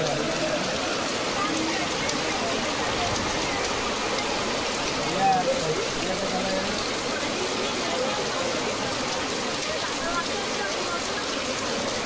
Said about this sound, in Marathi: अतिशय जोरदार पाऊस आहे मित्रांनो बघा